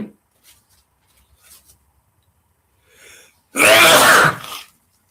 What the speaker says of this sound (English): Sorry, I will probably have to sneeze.